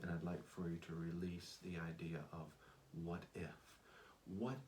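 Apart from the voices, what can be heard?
No distinct noise like a dog, phone or traffic.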